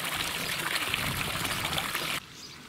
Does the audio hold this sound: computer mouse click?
no